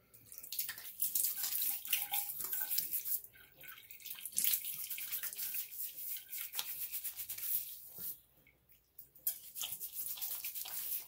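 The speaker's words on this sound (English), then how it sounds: "Let me put this blue water on my face before I get loading." Blue water splashed onto a face by hand before a shave, close wet slaps and rubbing in irregular bursts with a brief lull near the end, no talking.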